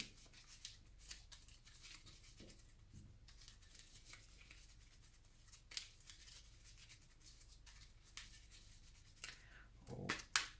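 Two NPC cards for the Zombicide Black Plague board game shuffled by hand at a table, a soft run of papery rubs and flicks with a few sharper card snaps, close and quiet with no talk.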